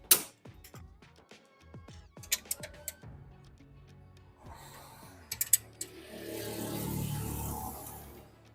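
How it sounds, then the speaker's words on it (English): Ratchet on a couple of extensions and a universal joint loosening the alternator bolt on a 1986 Honda Accord A20 engine: a run of sharp mechanical clicks and knocks close by, then a louder grinding rush near the end, with no voices. "use a couple of extensions and a universal joint on the end just to break her free."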